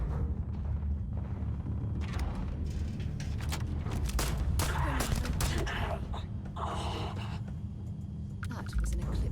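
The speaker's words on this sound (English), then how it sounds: "I hear gunfire." Gunfire in the Starfield game, heard as scattered bursts of shots and impacts at moderate distance mixed with footsteps and other game noise.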